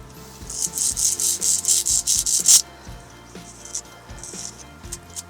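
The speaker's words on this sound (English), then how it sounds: "deburring it, making it look pretty" A metal spear part is deburred and cleaned up by hand, a rapid series of about a dozen close, rhythmic rasping strokes, then a pause and a few lighter scrapes, with no voices.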